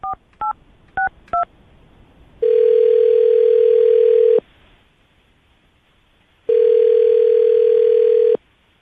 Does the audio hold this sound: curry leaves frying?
no